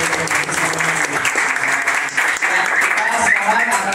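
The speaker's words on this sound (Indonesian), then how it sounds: "Tepuk tangan buat kita" A group at a fun-riding event breaks into lively, continuous applause, close and fairly loud, with voices chattering and calling out underneath the clapping.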